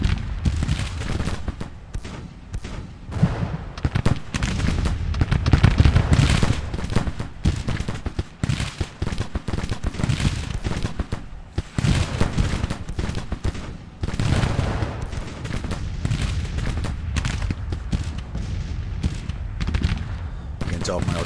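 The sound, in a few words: artillery and gunfire in Grand Tactician: The Civil War video game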